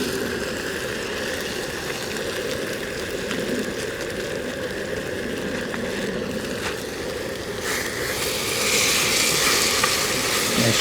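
Seasoned meat cooking in a pot over an open woodland fire, a steady sizzle and bubbling with occasional stirring scrapes, close and continuous, growing slightly louder toward the end.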